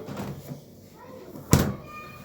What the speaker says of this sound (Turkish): Şimdi kapıyı kapatalım.